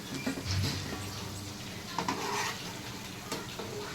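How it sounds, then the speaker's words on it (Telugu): Eggplant pieces fry in oil in a pan, giving a steady, close sizzle under occasional stirring and the scrape of a utensil against the pan. "ఇట్లా మంచి ఆయిల్లో వేయించుకుంటేనే ఇవి మంచి టేస్ట్ ఉంటాయి అన్నమాట వంకాయలు"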